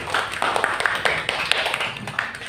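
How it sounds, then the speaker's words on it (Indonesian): Classmates clap for a group of students after their presentation, a short burst of fairly loud, uneven hand claps from a small room of people, with sharp individual claps standing out. "semuanya tepuk tangan untuk kelompok 1"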